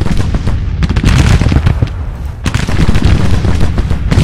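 Civil War-era artillery and musket fire thunder across a battlefield in Grand Tactician: The Civil War, a dense, loud barrage of overlapping booms and cracks with a brief dip before the firing resumes.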